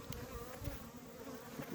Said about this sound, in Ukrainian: І ці вже теж бджолки не дуже дають.